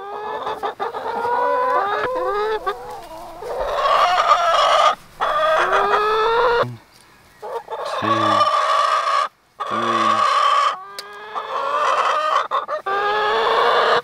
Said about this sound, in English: All the chickens are following me.